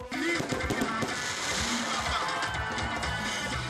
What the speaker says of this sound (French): En plus des feux d'artifice